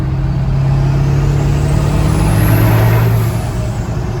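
600HP 7.3 Powerstroke diesel truck accelerating hard, a loud close-up engine roar climbing steadily in pitch over a few seconds, heard from inside the cab with no talking.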